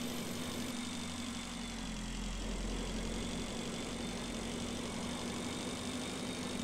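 Space motorbike engine idling in the Breathedge video game, a steady low hum with a constant tone running evenly and alone throughout, fairly loud and unchanging.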